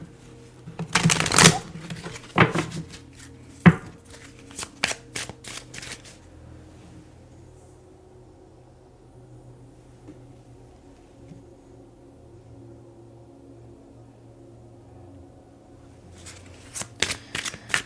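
Tarot cards being shuffled up close, a few loud riffling bursts at the start, a quieter stretch of near silence, then more brisk card riffles at the end, with no talking.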